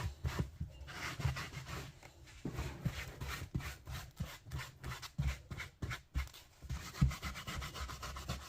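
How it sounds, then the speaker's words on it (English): A hat being buffed smooth by hand: continuous close brushing and rubbing strokes with a rhythmic, scratchy texture, moderately quiet and without speech. "that's why you do the buffing to it to make your hat smooth"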